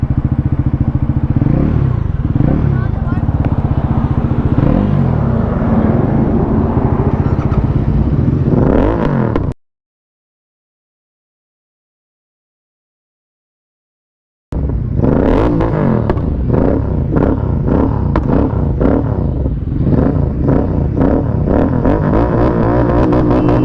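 A Bajaj Pulsar NS400Z and a Royal Enfield Continental GT650 roar loudly through hard acceleration in a drag race, engines rising through gears, then a sudden silence before the loud revving returns.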